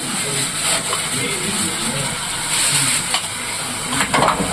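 Minced meat frying with onions in a pan, giving a steady loud sizzle with intermittent scraping and stirring clatter throughout.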